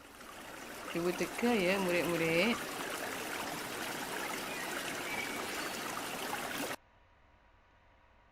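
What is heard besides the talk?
flowing water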